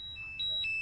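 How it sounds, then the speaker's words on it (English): An air quality meter held inside a face mask gives quick, high, thin electronic beeps in rapid succession, quiet and alone. "he breathes for a while, and the thing starts beeping like crazy"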